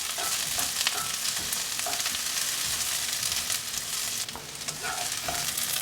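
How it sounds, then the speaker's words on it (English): Chopped onions hit hot olive oil on a Ninja Foodi Smart XL grill, giving a loud, steady sizzle with faint stirring and tossing scrapes throughout. "Add a couple tablespoons of olive oil in there. All right, let's get the onions in. Really quick toss."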